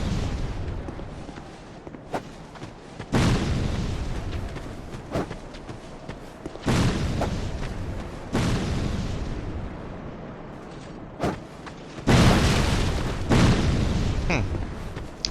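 Booming explosions in Dark Souls II, several loud heavy blasts in irregular succession with rumbling decay, with a voice talking faintly among them.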